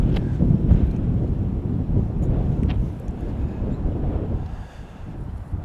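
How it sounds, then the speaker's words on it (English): Strong gusting wind at Chicago O'Hare International Airport buffets the microphone as a steady low roar that swells and eases, with faint distant rumble beneath. No one speaks. "here's that wind."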